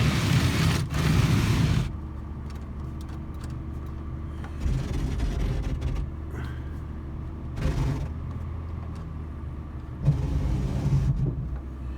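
An Oldsmobile Bravada idles after a cold winter start with a steady low engine rumble, broken by a few louder bursts of revving or cabin noise.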